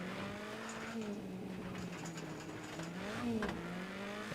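A car engine in the rally video game WRC 10 drones with a fluctuating pitch, revving up and down as it races along, with a brief rise in intensity near the end.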